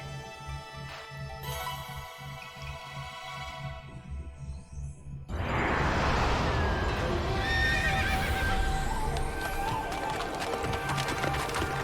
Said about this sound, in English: Oh, it's a horsey!